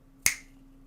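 A single sharp finger snap, close and crisp, standing alone in a quiet room and fading quickly.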